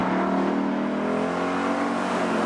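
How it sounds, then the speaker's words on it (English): A Ford Mustang Boss 302 V8 roars steadily at high revs under hard acceleration. The engine note stays loud, dense and sustained throughout, with no talk over it. "The engine only wants to be revved."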